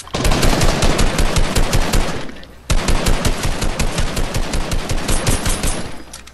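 Rapid automatic gunfire rattles from a Fortnite match, two long loud bursts of closely spaced shots separated by a brief pause.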